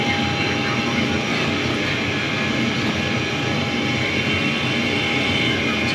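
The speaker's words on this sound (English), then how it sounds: "I hear the airplane sound like it's coming through a different mic" Steady, dense roar of airliner engine noise from a full-size Boeing 737 home flight simulator, loud and continuous without pauses, with a faint tonal whine held over the broadband rush.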